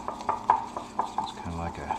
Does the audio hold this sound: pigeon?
no